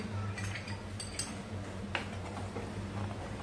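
A spoon stirring milk kheer in a cooking pot gives a few light metallic clinks and scrapes over a steady low hum, quiet and close.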